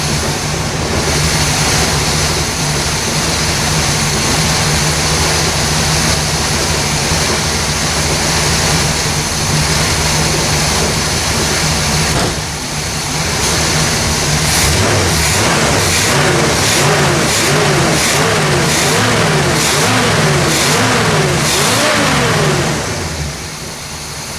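A 1967 Pontiac GTO with a 400 engine and four-speed turns over and catches, its loud, steady rumble filling the air before a run of sharp, rising revs toward the end.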